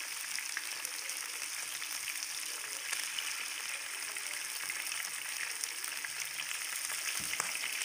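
Half a kilo of mutton liver (kaleji) fries on a tawa with a steady, dense sizzle that holds evenly throughout, loud and close, with no talk over it.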